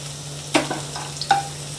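Garlic frying in a pan over medium heat for soya momos: a soft, low sizzle broken by a few sharp clicks and taps from stirring.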